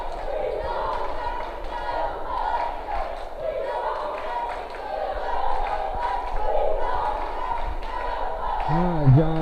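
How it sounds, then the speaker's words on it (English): Crowd noise fills a high school boys' basketball regional consolation final between Wagoner and Stilwell, a steady murmur and swell of spectators running throughout with a bouncing ball and shouts rising near the end. "a lot of crowd in the background as well"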